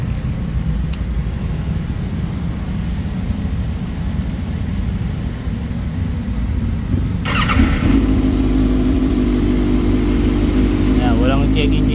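A motorcycle fitted with an SC Project carbon slip-on exhaust idles with a low throb, then bursts into sharp, loud revs partway through that rise and fall close by, with a voice heard briefly.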